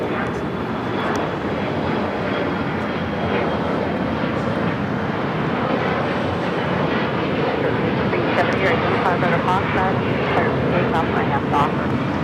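A Horizon Embraer E175 jet in retro livery takes off from LAX for Las Vegas, a loud continuous engine roar with wind buffeting and radio-style talk running over it.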